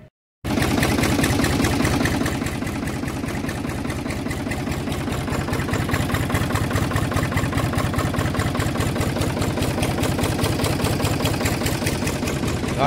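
Diesel Ford car that had run out of fuel idles close by after starting, a steady, even rhythmic engine chug that runs continuously after a brief moment of silence.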